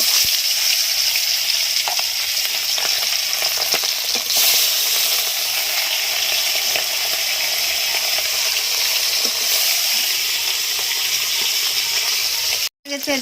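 Bata fish frying in hot oil in a kadai, a loud, continuous close-up sizzle and crackle holding steady throughout, with a sudden brief break near the end and no voices.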